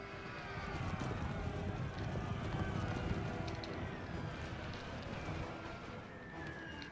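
Massed cavalry horses gallop across a Napoleon Total War battlefield, a dense, continuous drumming of hooves with whinnies under a steady wash of battle noise and talk.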